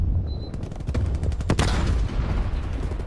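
A Stoner LMG fires in a video game, loud rapid bursts of machine-gun fire that ring out nearby, with a few shots then a dense rattling volley over a steady background.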